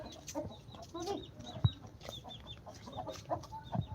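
A rooster clucks in short, irregular bursts close by, with soft farmyard background noise and a sharp tap partway through.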